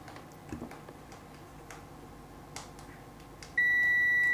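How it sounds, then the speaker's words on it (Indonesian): A continuity tester's buzzer gives out a sustained, steady electronic tone near the end when checking a soldered connection on a power supply, after a few quiet clicks and taps. "sekarang kita akan coba tes menggunakan buzzer"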